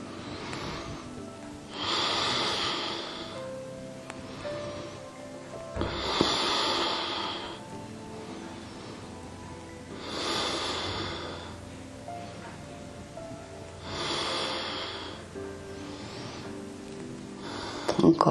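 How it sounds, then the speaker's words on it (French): Slow, deep yoga breaths, drawn in and pushed out in a steady cycle of about five full breaths, each one an airy hiss that swells and fades, close and quiet, with no talking. "Inspirez en haut, soufflez en bas."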